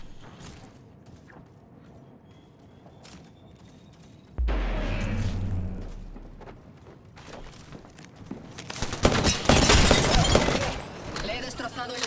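Video game gunfire: a heavy thud followed later by loud, rapid bursts of shots and impacts on shields, with quieter clicks and movement sounds.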